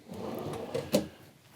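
A full-length drawer in a 2019 Renegade Classic 40-foot tandem-axle trailer slides and bumps shut, one short close thud-and-knock after a soft slide.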